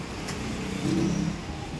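A Mitsubishi Mirage engine idling steadily after its fuel pump was rewired, a low continuous hum with a brief slight rise in revs midway, heard alone without talk.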